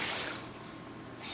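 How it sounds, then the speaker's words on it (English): Six cups of water pour into a blender container holding shredded paper for homemade papermaking, a steady soft splashing and trickling that is faint and unbroken, with no talk. "Now we add 6 cups of water into the container."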